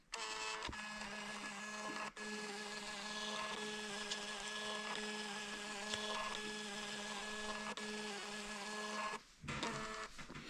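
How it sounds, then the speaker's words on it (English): A Fomamo Bluetooth label printer runs continuously for about ten seconds, printing labels with a steady mechanical whir and faint high tones, pausing briefly between labels. "which connects to this Fomamo Bluetooth printer, and I'm going to print off 6 copies"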